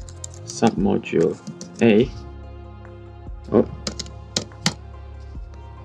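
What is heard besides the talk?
typing a command on a computer keyboard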